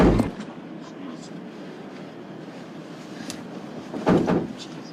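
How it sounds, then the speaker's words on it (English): A door shuts with a short, solid thud near the end, after a brief knock at the start, against a quiet room background. "Door shut."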